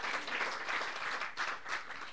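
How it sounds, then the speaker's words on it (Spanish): A church congregation claps for the Lord, a full, even round of applause with gently swelling waves of many hands, no voices standing out. "denle un aplauso al Señor"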